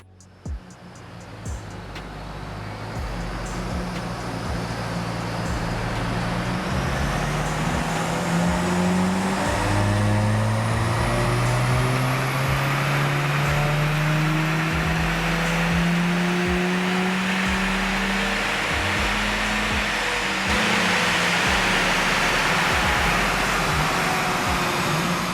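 A stock Volkswagen Golf R Mk7 runs on a dyno, the engine note climbing steadily through the gears in long rising sweeps, loud and close, over a constant roar of rollers and fans.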